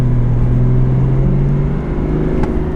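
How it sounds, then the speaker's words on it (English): A lifted Chevy Silverado 1500 Duramax diesel pickup towing a trailer under hard acceleration from a roll, a loud, close engine drone with a strong low hum that rises slightly, then eases near the end. "So we're gonna do a quick hard acceleration."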